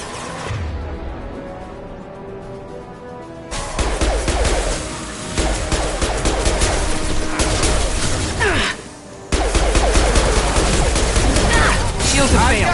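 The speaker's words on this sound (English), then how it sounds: "Firing concussive shot!" Loud gunfire and a concussive shot blast from the video game Mass Effect 2, dense rapid shots and impacts in a chaotic combat mix, with brief gaps between volleys.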